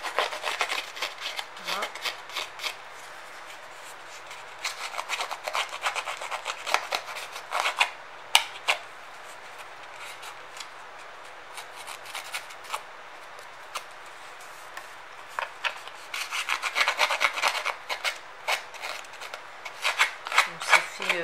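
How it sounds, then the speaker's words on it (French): A shabby-chic paper card having its edges worn down, rough rasping rubs repeated in close, steady bursts with short pauses between strokes; a voice speaks briefly. "Je vais user les coins, enfin les bords, pardon."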